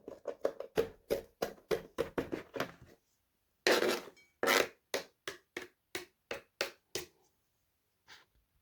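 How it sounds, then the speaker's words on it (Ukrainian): A knife chopping fresh herbs such as parsley, dill, cilantro or celery on a board for a warm salad: quick runs of crisp, close taps, a short pause, then slower spaced cuts. "Ріжу дрібненько і до салату."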